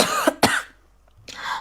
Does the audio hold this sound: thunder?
no